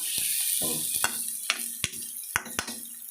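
Chunks of taro root crackle and sizzle in hot oil, a steady bright hiss punctuated by sharp pops and occasional scraping stirs of a spatula.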